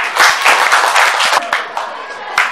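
Classroom applause after a student group's presentation in a social studies lesson, a dense burst of many hands clapping that stays loud for a couple of seconds and then thins out slightly.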